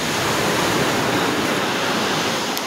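Big ocean waves at Curieuse Island in the Seychelles make a loud, continuous roar of surf and rushing water, with no voices over it.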